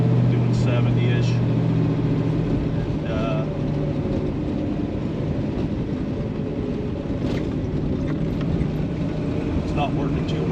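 A 1968 Chevelle SS 396 cruises down the freeway at about 70 mph, its engine a steady low drone blended with constant road and wind rumble from inside the car.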